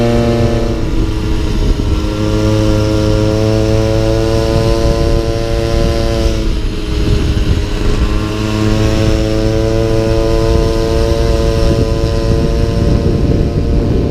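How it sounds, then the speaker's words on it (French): A Peugeot 103 moped fitted with an aftermarket exhaust pipe climbs a mountain road near Alpe d'Huez, its two-stroke engine droning loud, close and steady with a buzzing, raspy tone throughout, no voices over it. "Le 103 il marche bien, même avec le pot. Ça fait du bruit, mais ça fait le boulot."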